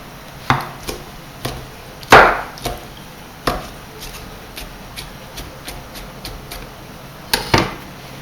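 A knife chops fresh tomato on a board in a string of sharp, close strikes at an uneven pace, some louder than others, with quiet gaps between them.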